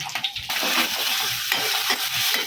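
An egg fries in a pan of oil, giving a steady close sizzle with stirring and scraping sounds, as one step in making restaurant-style mixed fried rice.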